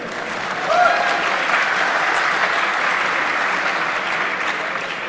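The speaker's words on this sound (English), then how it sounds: "Give him a round of applause for doing simple subtraction." Audience at a cryptography conference talk breaks into sustained applause, a dense steady wash of clapping that swells quickly and holds at even loudness for about five seconds, with no speech over it.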